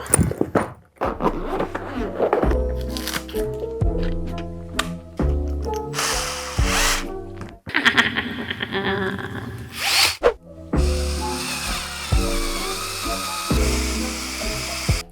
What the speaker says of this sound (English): It is time for the next power tool.